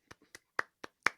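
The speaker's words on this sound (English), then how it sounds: "Now I will applaud" Six sharp hand claps from one person, irregularly spaced and fairly close, standing alone in a quiet room.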